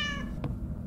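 A kitten meows once in a summer-camp horror video game, a short tonal cry at the start over a steady low background hum, followed by a faint click.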